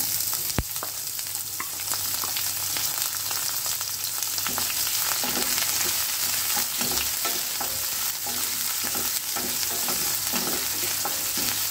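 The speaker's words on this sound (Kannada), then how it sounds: "ಚೆನ್ನಾಗಿ ಈರುಳ್ಳಿ ಟ್ರಾನ್ಸ್ಪರೆಂಟ್ ಆಗೋವರೆಗೂ ಹೀಗೆ ಫ್ರೈ ಮಾಡ್ಕೋಬೇಕು" One chopped medium onion sizzles and crackles steadily in a hot pan, with occasional scraping as it is stirred, no talking.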